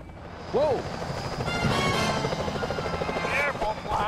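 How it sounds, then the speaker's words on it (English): Security helicopters in the Sly Cooper: Thieves in Time video game sweep in with a loud, steady rotor whir, joined by game sound effects and character voices talking over it. "Those security choppers are bad news."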